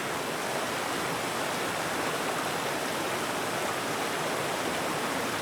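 The Namhan River in Yeongwol flows with a steady, dense, hissing rush, even and continuous, with no voices or other sounds breaking through.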